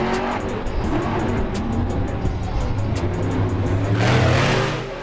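A loud monster truck engine roars and revs steadily throughout, swelling toward the end before easing off.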